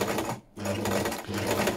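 A sewing machine running a straight stitch through sari fabric, with a steady close whirr that stops briefly for a moment and then starts again.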